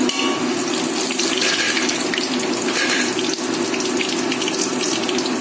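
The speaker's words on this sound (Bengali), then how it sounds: "এবার আমি গরম তেলের মধ্যে এই যে জিরে আর তেজপাতা ফোড়ন দিয়ে দিলাম" Cumin seeds and bay leaves are dropped into hot oil for a potato and egg curry and sizzle loudly, giving a steady, even hiss with no pauses and no talk.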